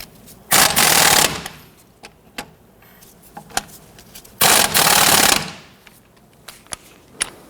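Two loud bursts of an impact wrench rattling strut bolts tight on a 1992-1996 Toyota Camry, each about a second long, with scattered clanks and clicks of tools in between.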